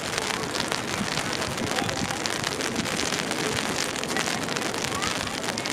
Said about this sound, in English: the rain is coming down now